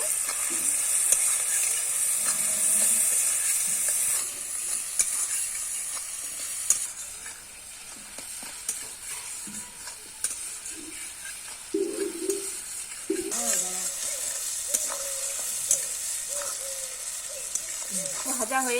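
Shredded cabbage with salt and turmeric stirred in a hot pan, continuous close sizzling with repeated spatula scrapes and clatters, and a person talking intermittently over it.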